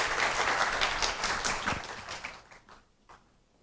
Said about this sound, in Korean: 큰 박수로 총장님 맞이해 주시기 바랍니다